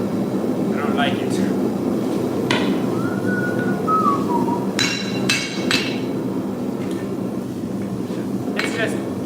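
Hammer blows forging random pattern Damascus steel, with a loose, shaking hammerhead; repeated sharp strikes ring out over a steady mechanical hum while a whistling tone comes and goes, and a voice talks in the background.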